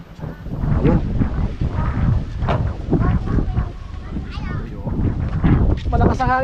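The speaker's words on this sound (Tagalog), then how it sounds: "Malakas ang hangin." Strong wind blows across an outdoor cooking setup where crab is being boiled in coconut milk, a steady gusty rumble against the microphone, with someone talking loudly over it throughout.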